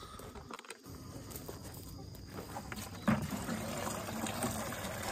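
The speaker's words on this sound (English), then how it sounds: "All right, so we're waiting for these buckets to fill up." Water running steadily into buckets on an off-grid homestead, a continuous close splashing and trickling rush with no talk.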